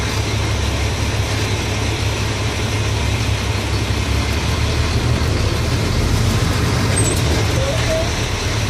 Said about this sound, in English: Put my truck in low gear. I'm going to move it between 1 foot and 3 feet.